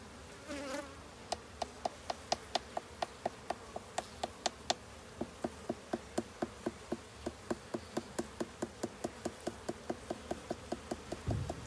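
Honeybees at a Tamil honeybee farm buzz around a hive frame, their close, steady drone broken by a long regular train of sharp ticking taps.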